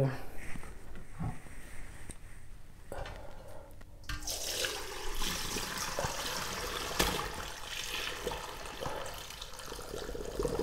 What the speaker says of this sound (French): Je vais enlever l'eau de la cuisson que je vais réserver à côté